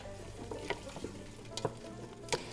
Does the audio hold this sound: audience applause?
no